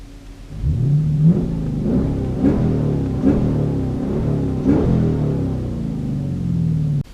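A Dodge Challenger engine with an Airaid cold air intake is revved between 4,000 and 5,000 RPM, starting with a rising roar and then falling into a series of loud, close, pulsing revs that cut off abruptly.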